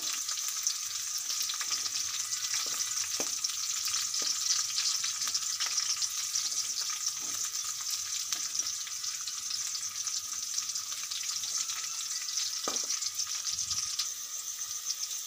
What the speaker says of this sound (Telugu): పచ్చిమిర్చిని వేసుకుందాం ఇది వేగేంత వరకు ఇలా కలుపుకోవాలి